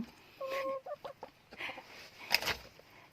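Chickens cluck softly nearby while eating vegetables, with scattered pecking and rustling, one louder squawk near the end, in a quiet outdoor setting.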